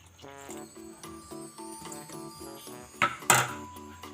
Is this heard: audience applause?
no